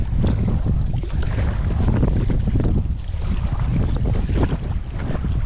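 Gusty wind buffets the microphone steadily at sea while kayaking off Fuerteventura near Pozo Negro, a loud continuous low roar with fluctuating swirls and no talk.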